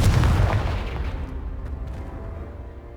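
A blasting spell in the Hogwarts Legacy video game blows apart a pile of debris blocking a stairwell: one loud, close explosive boom that rumbles and slowly decays over a few seconds.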